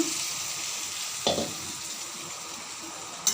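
Washed, cut chicken pieces frying in masala in a hot pan, a steady close sizzle with two brief bursts of scraping or spattering as the pieces are moved.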